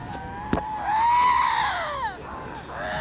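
Two cats yowl and scream at each other in a tense standoff, a rising, wavering wail swelling to a loud peak and then sliding down, with a brief sharp cry near the start and another quavering call at the end.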